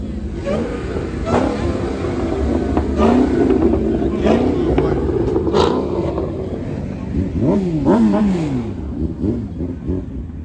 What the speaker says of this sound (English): Alright, everybody pulling up now.